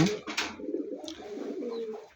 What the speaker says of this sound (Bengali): আমার এই কবুতরগুলো শুধু গমে খায়